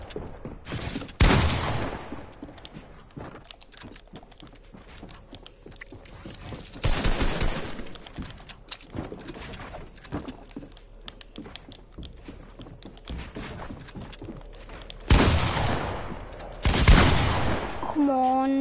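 Video game pump shotgun fire sounds as several sharp, loud blasts spaced seconds apart amid a busy background of rapid gunfire and clicks, with voices talking over it.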